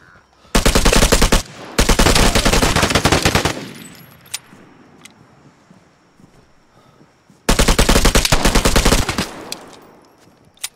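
Automatic gunfire in the Vigor game, two long loud bursts of rapid shots near the start and another sustained burst later, separated by quieter gaps with faint ticks.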